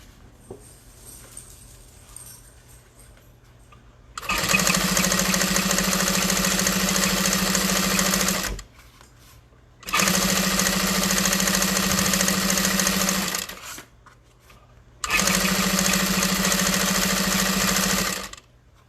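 A sewing machine stitches a tote bag strap in three sustained runs of steady whirring and rapid needle thumping, separated by short quiet pauses, close and alone.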